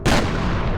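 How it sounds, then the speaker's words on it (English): A single heavy gunshot in the shooter game F.E.A.R., a sudden loud boom that cuts in sharply and leaves a dense, rumbling tail for under a second. "I guess I'm just bad at shooting"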